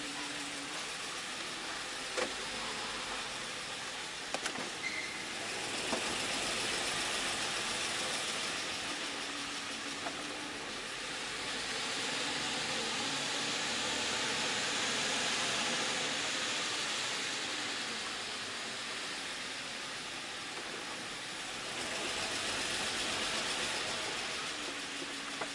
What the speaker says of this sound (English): drive to refuel the car.